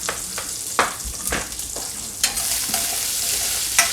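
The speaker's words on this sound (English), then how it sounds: "Stir up my bacon." Bacon fries with a steady sizzle in a pan, broken by several sharp scrapes and clinks as it is stirred, close and loud.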